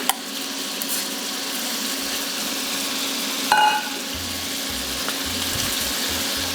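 Large shrimp cook in a pan for shrimp scampi, making a steady, close sizzle with a brief scrape or clatter near the middle and faint low knocks later, no voices.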